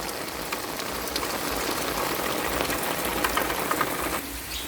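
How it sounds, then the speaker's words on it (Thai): Steady, dense hiss of rain falling continuously, with faint patters and a low rumble underneath. "ฝนตกพี่น้องเอ้ย"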